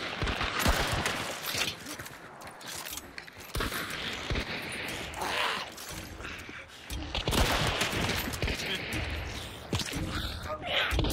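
Gunfire in the video game Hunt: Showdown, a string of close, loud shots and bursts running through the clip, mixed with mechanical clicks and with players talking over it.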